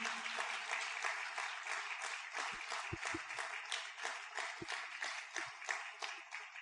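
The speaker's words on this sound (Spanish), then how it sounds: "No merece un fuerte aplauso nuestro Dios por eso" Congregation clapping in a church during a Spanish-language sermon, a faint, distant patter of many hands, with low hum and a few soft thumps beneath it.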